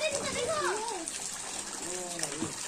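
Continuous splashing, gushing water from a fountain fills the background while people talk over it nearby.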